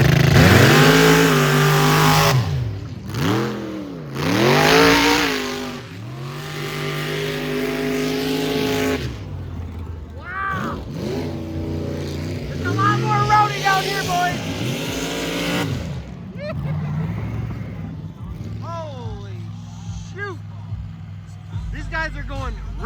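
Chevy C10 square-body truck tearing through a muddy track at a Michigan mud racing event, engine revving hard in loud surging bursts and passes, with an announcer and crowd voices talking over it.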